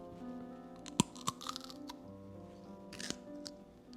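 Teeth bite through a salad ingredient during hand preparation of a summer salad, with a few sharp crunches and snips followed by softer chewing, close and quiet, with no voice.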